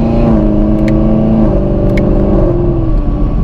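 A Hennessey Exorcist Camaro ZL1, a roughly 1,000-horsepower car, drones loud and close as its engine pitch climbs and falls through a run of gear changes, with brief sharp clicks breaking in at the shifts.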